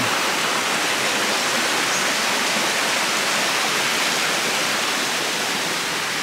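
Pa Wai waterfall beside the Thai–Myawaddy riverside market pours in a steady, loud, broadband roar of falling water, continuous and close with no voices over it.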